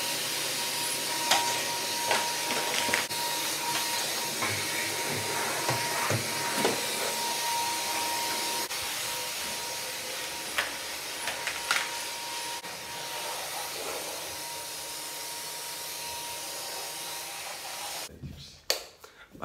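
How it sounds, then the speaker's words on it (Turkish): A vacuum cleaner runs steadily with a loud, broad hiss and scattered knocks and bumps as it moves, then cuts off abruptly near the end. "Ben şimdi evi süpürdüm."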